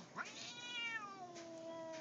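A ginger cat gives a single drawn-out meow, rising then slowly falling, close and fairly quiet in a calm room.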